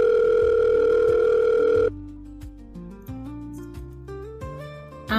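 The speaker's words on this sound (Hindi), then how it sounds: "सूरज ने किसी को फोन लगाया।" A telephone dial tone hums steadily for about two seconds, then cuts into a quick series of stepped keypad tones as a number is dialed, loud and close.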